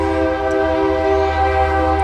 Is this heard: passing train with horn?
yes